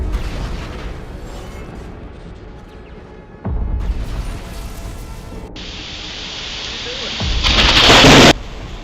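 Thunder and lightning cracks with loud, sharp bangs followed by heavy rumbling and steady rain, with a bright crackling burst near the end.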